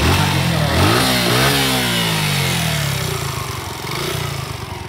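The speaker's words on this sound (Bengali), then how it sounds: "ভাই বাইকটা স্টার্ট দেন তো।" Suzuki Gixxer motorcycle engine, nearby in a service workshop, revs up twice with rising pitch, then settles into a steady running idle.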